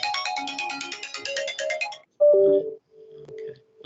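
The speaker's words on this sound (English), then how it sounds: "Phone ringing." Phone ringtone going off during an online meeting, a rapid repeating electronic melody for about two seconds, followed by a few sparse lower tones with gaps, no talking over it.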